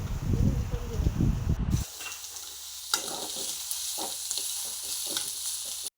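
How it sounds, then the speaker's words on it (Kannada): Coconut frying in a pan, with a steady sizzle and repeated scraping stirs close by, after a brief loud voice at the start. "ತೆಂಗಿನಕಾಯನ್ನು ಫ್ರೈ ಮಾಡಿ ಹಾಕೋದು"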